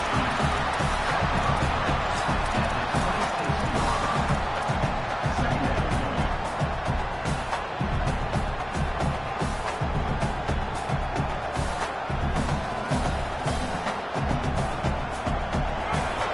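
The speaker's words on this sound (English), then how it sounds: "this home crowd is fired up and ready to make a difference today" Home crowd at a college football game between Florida and Clemson roars and cheers continuously, a dense, loud stadium wash with scattered whoops, while commentators talk over it.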